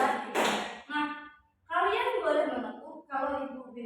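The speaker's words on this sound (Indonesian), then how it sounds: "kalian boleh menepuk kalau ibu bilang tepuk" Children in a classroom clapping game clap their hands on cue: a short burst of claps, then a pause, with children's voices and a teacher's voice speaking through and between.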